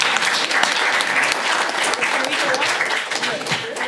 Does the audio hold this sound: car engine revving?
no